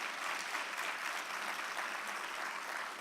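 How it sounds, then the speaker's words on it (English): Audience applause fills a sports awards show, a dense, even wash of clapping from a crowd that holds steady throughout with no break. "let's give them another round of applause"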